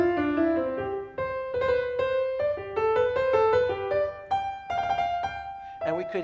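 Solo piano plays a short phrase with quick inverted mordent ornaments flicking between neighboring notes, clear and close, with no voices.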